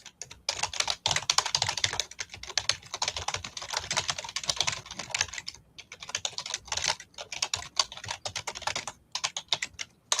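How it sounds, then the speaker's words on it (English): Typing on a computer keyboard during a live recording session, with rapid irregular key clicks going on and on and close to the microphone, with no one talking. "I can hear you typing, yeah."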